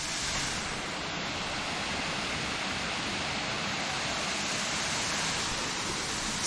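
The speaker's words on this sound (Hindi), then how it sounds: "ये है वांगन वाटरफॉल" Wangan waterfall near Vasda in the Dang area of Gujarat pours in a steady, broad rush of falling water, close and continuous with no voices.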